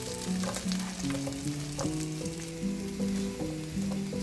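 Carrots sauté in a hot pan with a steady, close sizzle and a few light crackles, while a soft melodic tune plays underneath throughout.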